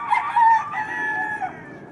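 A single rooster crows clearly, a drawn-out cock-a-doodle-doo that rises and fades over about two seconds, with no talking.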